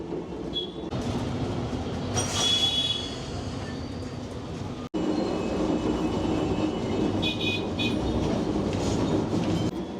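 A Kolkata tram rumbles along its rails with steady clattering wheels and occasional metallic squeals, loud and close, continuing throughout.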